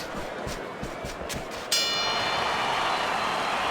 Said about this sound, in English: the bell rings, signifying the end of the round